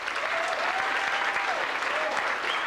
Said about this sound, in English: So maybe a bit of applause for that cause.